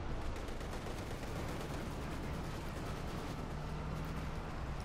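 KV-8 flamethrower tank firing in the game Company of Heroes 2: a steady, dense roaring rush of flame and battle noise holding at full strength for about five seconds, with no pauses.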